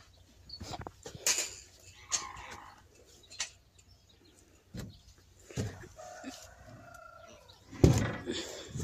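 A hen sits on a nest of eggs, giving scattered clucks and soft vocal calls in separate bursts with quiet gaps between, close by, with one louder squawk near the end.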